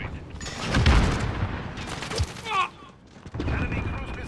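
Bursts of video game gunfire, several loud volleys and booming impacts spaced unevenly over a few seconds amid battle noise, with a player talking in between.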